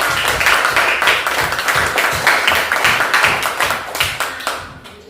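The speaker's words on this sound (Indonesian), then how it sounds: "Tepuk tangan untuk semua teman-teman." Classmates in a school lesson on eye health clap together, a loud, fairly rhythmic patter of many hands that stays steady before trailing off at the end.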